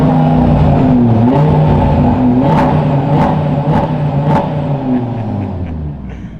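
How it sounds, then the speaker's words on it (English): Audi RS3 five-cylinder with a full performance exhaust heard from behind the car, a loud steady rumbling idle punctuated by several sharp blips of revving, then settling toward the end. "let's hear what it's like behind the car"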